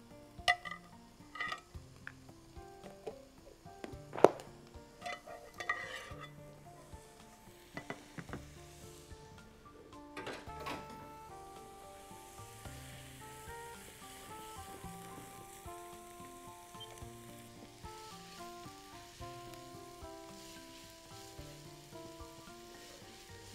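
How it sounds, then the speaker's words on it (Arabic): A spoonful of ghee melts in a pan with a soft, steady sizzle, and a few sharp metallic clinks of a spoon near the start; faint and continuous, no talking. "خلينا نسيح كده معلقة السمنة اللي اتفقنا عليها علشان السندوتشات"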